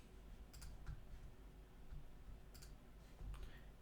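Computer mouse clicking in a quiet room, a few faint, sharp clicks in small pairs spaced about two seconds apart, alone without talk.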